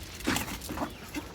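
Village chickens cluck softly in short, scattered bursts, several quiet calls spread across a brief moment against faint background noise.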